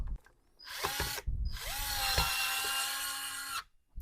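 A power driver screws a dust extraction port onto a Vitals Master ARg 18165 SmartLine+ cordless circular saw, giving a short whirring burst and then a longer, steady high-pitched run that stops abruptly.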